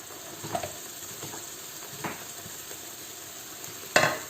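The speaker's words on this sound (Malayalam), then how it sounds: "ഈ പാകത്തിൽ വറുത്ത് വെച്ചിരിക്കുന്ന ഈ പാവയ്ക്ക നമ്മളിതിലേക്ക് ഇടുവാണ്" Fried bitter gourd is dropped into a hot pan for pavakka kichadi, setting off a low, even sizzle with a few soft knocks and one sharper clatter near the end.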